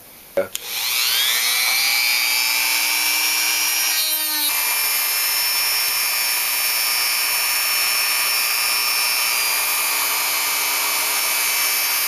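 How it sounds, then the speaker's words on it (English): A Dremel rotary tool cutting out plastic tabs inside a hollow motorcycle handlebar tube, spinning up with a click to a loud, steady high-pitched whine that holds for about ten seconds with a brief dip partway through, very close. "So I'm going to cut those tabs out with the Dremel."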